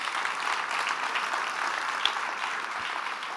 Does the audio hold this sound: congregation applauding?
yes